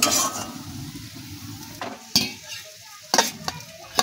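Fried pointed gourd bhujia being scooped out of a hot pan, with a low ongoing sizzle and several sharp scraping clinks of a spatula against the metal, close and without talking.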